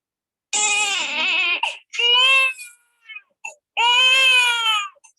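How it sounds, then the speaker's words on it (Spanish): Newborn infant with Moebius sequence crying in three sustained bursts separated by short gaps and a few brief whimpers, close and loud with nothing else heard. "Lo que escuchamos es el llanto del bebé que no se acompaña de expresión facial."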